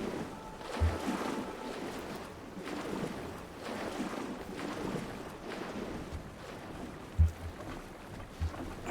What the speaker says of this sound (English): What is that splashing noise?